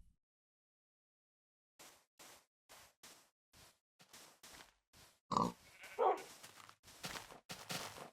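A pig in Minecraft gives a run of short, close grunts in an uneven rhythm, with a couple of louder snorts midway, after a silent opening.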